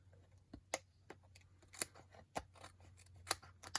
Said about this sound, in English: let's just trim that off the back side